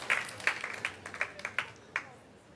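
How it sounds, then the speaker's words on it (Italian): Scattered applause from an audience at a fashion show, a few light claps spaced unevenly over a couple of seconds, fairly quiet and distant. "Un grande applauso a Daro"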